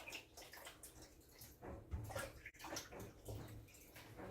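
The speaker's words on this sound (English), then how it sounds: "Just giving the peaches a quick rinse." Tap water runs steadily over peaches being rinsed at home for preserving. The splashing flow is soft and continuous, with faint shifting gurgles throughout.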